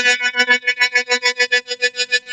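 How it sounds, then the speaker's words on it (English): A harmonica played on the third draw, with the tongue placed over two holes, gives a buzzy, pulsing warble: rapid rhythmic throbs about six per second, close and loud, with no talk. "he's doing the third draw, and then he puts the tongue over the two holes there"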